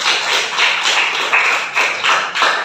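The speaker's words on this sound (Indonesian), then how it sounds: "Beri aplaus untuk teman-teman" Classroom applause for student classmates after a presentation, a steady patter of many hands clapping together at close range, with small surges in rhythm throughout.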